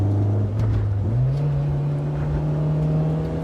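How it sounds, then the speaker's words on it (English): A JDM ITR B18C engine swapped into a 2000 Honda Civic Si drones steadily, then its pitch jumps up and holds higher as VTEC engages, a close, loud, continuous engine note with no talking. "Listen to that VTEC switch over."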